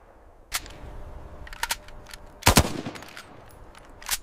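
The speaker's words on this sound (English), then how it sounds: "In burst fire mode, the AK-47 becomes a machine of destruction." An AK-47 rifle fired in burst mode: a few sharp, separate cracks, with one bigger cluster of rapid shots in the middle and a final report, set against a quiet background.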